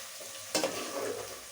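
Sliced onions fry in a pan with a soft, steady sizzle, and a single sharp stirring scrape or clatter cuts in near the middle before the quiet frying hiss carries on.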